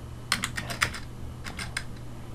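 Keys clatter on a computer keyboard during a hands-on computing lesson, a quick run of crisp taps followed by a short pause and a few more strokes, close and alone.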